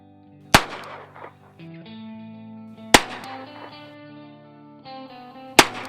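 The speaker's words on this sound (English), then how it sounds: "This old Army Colt .38 is fun to shoot" An 1892 Army Colt .38 revolver fires three sharp, loud shots a couple of seconds apart. Each report is followed by a ringing tail over steady background tones.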